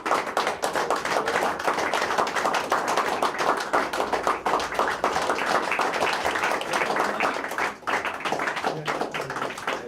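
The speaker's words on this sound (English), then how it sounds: "Give an applause to him." Dense, sustained audience applause at an air transport awards ceremony, many hands clapping steadily and fairly close for about ten seconds without a break.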